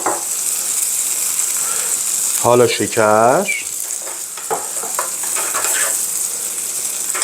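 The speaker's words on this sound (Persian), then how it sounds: "یه قاشق غذاخوری کره داخل یه ظرف اضافه کنید و بذارید کاملا آب بشه. بعد زرشک رو اضافه کنید." Barberries sizzle and fry in melted butter in a pan, a steady close crackling hiss throughout, while a voice speaks briefly in the middle over the frying.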